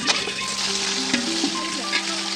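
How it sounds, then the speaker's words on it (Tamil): Onions sauté with salt in a pan for chicken biryani, giving a steady, moderate sizzle with a few light clinks of stirring and no voices. "உப்பு போட்டு வெங்காயம் நல்லா வதக்கிக்கலாம்"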